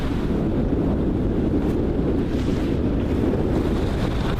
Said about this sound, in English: We finally found some wind.